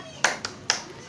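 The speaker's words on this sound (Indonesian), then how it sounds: "Tepuk semangat." A group of mothers at a health and nutrition class does a short rhythmic 'tepuk semangat' cheer clap: three sharp, close claps spaced unevenly within about a second.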